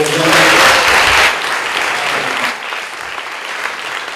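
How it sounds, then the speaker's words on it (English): Loud audience applause for Justin Chien, an actor and Class of '15 alum, on a school visit; dense clapping that peaks early, then eases in two steps toward a softer patter. "So let's give him one big round of applause."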